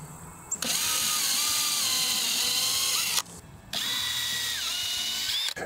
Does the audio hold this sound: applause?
no